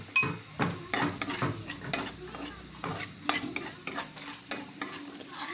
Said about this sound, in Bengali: মশলাটা ভালো করে কষিয়ে দেবো।